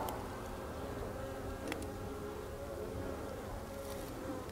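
Steady, dense buzzing of many honeybees at a hive in an apiary in February, filling the whole stretch at an even loudness, with no voices over it.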